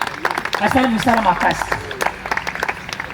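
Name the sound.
applause for the bride's parents at a wedding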